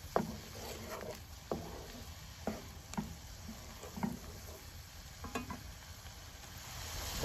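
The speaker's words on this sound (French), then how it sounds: "Ça mijote et ça mijote." Saç kavurma cooks in a pan with thyme and paprika in a garden: a soft, steady sizzle and simmer runs throughout, broken by occasional sharp clicks and scrapes of stirring, with no voices.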